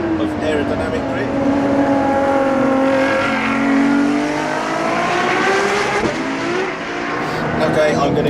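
A LaFerrari hybrid supercar accelerates hard in second gear out of a hairpin on a race track. Its engine note climbs loud and close for several seconds while someone talks over it.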